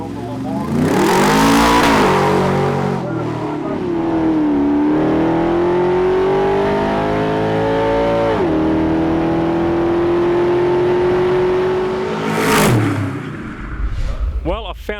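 An HC Formula Lamar car's engine revs loudly and close, climbing in pitch, settling into a sustained high drone, then surging again with a sharp rev near the end.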